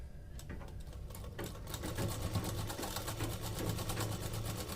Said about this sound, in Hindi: ये देखिए इस तरीके से हम सिलाई लगाएंगे।